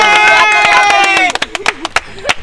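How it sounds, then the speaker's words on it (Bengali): Children clapping at a pretend wedding game: a sung or drawn-out voice comes first, then a handful of sharp, separate claps follow in an irregular scatter, close and fairly loud. "সবাই হাততালি দাও, বিয়ে সম্পূর্ণ।"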